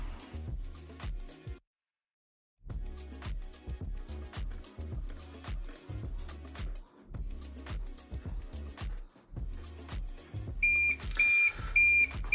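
A heat press (AP2029, 38x38 cm) makes rhythmic mechanical thumps and clicks that pause briefly, then resume, and near the end its temperature alert beeps brightly and repeatedly over them.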